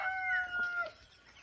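A small backyard chicken crows in a short, near, clear call with a drawn-out, slightly wavering note and a faint cluck at the end, with farm surroundings quiet behind it.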